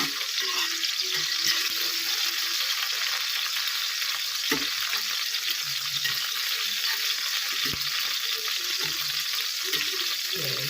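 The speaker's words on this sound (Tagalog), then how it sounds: "At iprito natin ang talong." Eggplant slices fry in hot oil, with fried milkfish and string beans cooked alongside, giving a steady close hiss of sizzling with occasional soft clicks and knocks from the pan.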